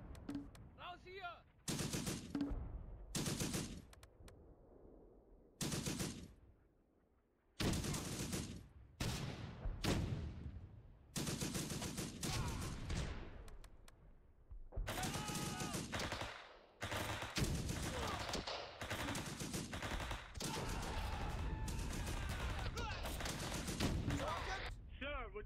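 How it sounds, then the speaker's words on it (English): Heavy gunfire in a World War II-era war game, with dense bursts of machine-gun and rifle shots alternating with brief silences, growing into near-continuous firing in the second half, mixed with other battle noise. "We're taking heavy fire!"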